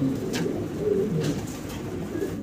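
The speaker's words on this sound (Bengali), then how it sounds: "ভাই এগুলো কবুতর মুন্ডিয়ান কবুতর" Mundian pigeons cooing close by, a few low, throaty coos in quick succession over soft background rustle, with no talking.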